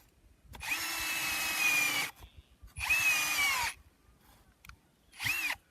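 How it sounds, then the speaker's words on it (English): A power drill fitted with an auger bores a planting hole in paddock soil. Three close bursts of whining motor noise come in succession, each stopping sharply, with quiet gaps between them. "It's an auger that goes into your power drill."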